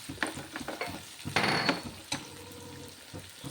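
Chilli chicken is stirred in a frying pan, a spatula scraping and knocking against the pan over a soft, steady sizzle of frying, with a few louder scrapes close by and no talking.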